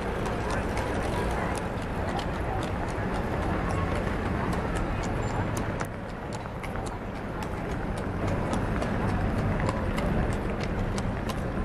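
Horse-drawn carriages clatter through the streets of Bruges, a continuous stream of hoof clip-clops on cobblestones over busy street ambience and traffic noise, close and fairly loud throughout.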